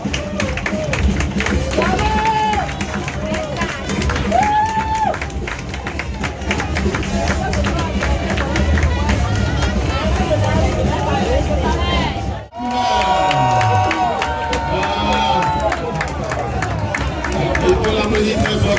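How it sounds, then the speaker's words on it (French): At a 2024 carnival, a large outdoor crowd cheers and claps for the municipal majorette. The loud, steady crowd noise runs throughout with music and voices mixed in, and it dips briefly in the middle. "sous vos applaudissements, mesdames et messieurs."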